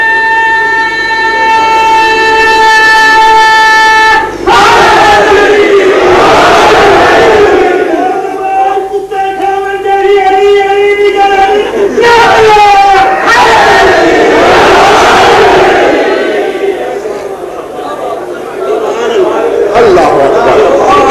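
A large crowd chants religious slogans in loud, sustained unison calls at a religious gathering, rising in swelling waves that fill the whole span, with a strong voice leading over them.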